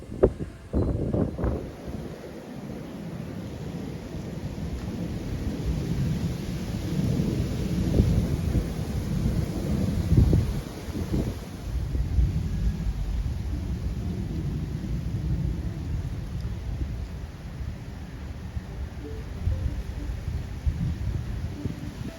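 A strong outdoor wind roars steadily against the microphone for over twenty seconds, with heavy low buffeting that swells and eases in gusts.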